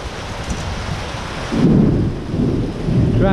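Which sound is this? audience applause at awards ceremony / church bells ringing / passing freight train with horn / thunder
thunder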